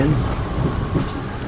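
A passing train, the Sailor Express, rumbles steadily with low rolling noise and a faint rhythmic clatter throughout, close and fairly loud, with a brief murmur of voices mixed in.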